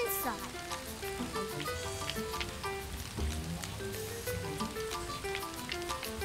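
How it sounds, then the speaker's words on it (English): Rain patters and hisses steadily in a cartoon scene, a constant dense wash of drops heard along with music and light voices. "It's raining. We can play in the rain."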